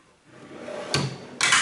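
Short drawers on a Harbor Freight mechanics cart slide in two quick, close metallic swishes about half a second apart, the second one louder and longer, with no talking.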